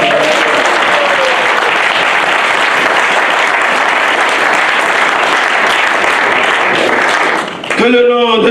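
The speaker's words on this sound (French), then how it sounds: "Est-ce qu'on peut l'acclamer ce matin?" A church congregation applauds, a loud, dense, sustained clapping that fills the room for several seconds. A voice speaks over it as the applause ends.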